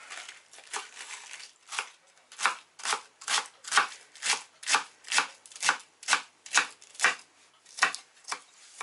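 A knife chops through fresh cabbage on a board for a pork mince casserole, about fifteen crisp, evenly spaced strikes heard up close with no talk.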